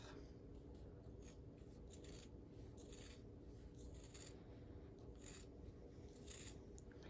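Fabric scissors snip off a cloth seam in a quiet series of short, crisp cuts, repeated at an irregular pace over a steady background hiss.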